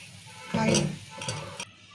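Boondi batter drops into hot oil and bursts into a loud, crackling sizzle. The sizzle lasts about a second, then cuts off abruptly.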